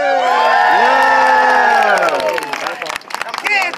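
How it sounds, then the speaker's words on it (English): Crowd at a medieval faire yelling, cheering and whooping loudly after a performer's trick, with clapping mixed in; the roar is sustained and close, then breaks into scattered shouts and claps before swelling again. "yell, clap, and scream like it's a really good trick because it is."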